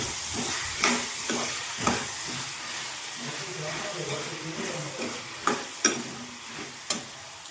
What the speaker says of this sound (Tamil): இப்போ கிண்டி விடலாம்